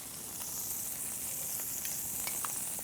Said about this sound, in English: With the heat still on, we're going to add our shallots and garlic.